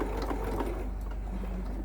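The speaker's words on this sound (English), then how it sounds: "I stitch, and then I back stitch. And on this particular machine, I just stitch the 3 stitches, and then the back stitch actually stitches that 3 stitches again." A sewing machine stitching forward and then back stitching, a steady low mechanical whir with quick repetitive needle clatter throughout, close and continuous.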